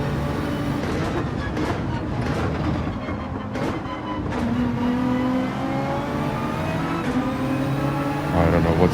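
Gr.3 race cars on Dragon Trail in Gran Turismo 7, a dense steady engine roar from a pack of cars with some rising revs, loud and continuous throughout.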